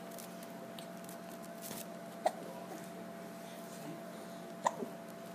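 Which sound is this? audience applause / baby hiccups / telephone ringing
baby hiccups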